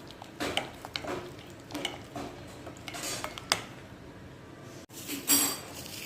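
A spoon stirs and mixes a tandoori chicken marinade with garam masala in a bowl. It gives intermittent clinks and scrapes at close range, with short pauses between strokes and no talking.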